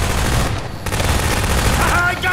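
Rapid automatic turret fire in a co-op shooter game, dense sustained bursts of gunfire with booming low end throughout, and voices mixed in under the shots.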